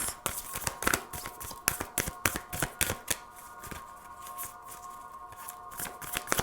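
Tarot cards being shuffled and drawn, a rapid run of crisp papery riffles and snaps close up in a quiet room, with brief pauses between bursts.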